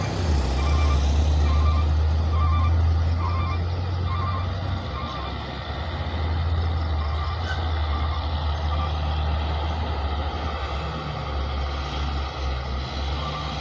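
Two Hino trucks, one old and one new, haul timber past on a foggy road, their engines a steady loud rumbling drone, with a run of repeated beeps in the first few seconds.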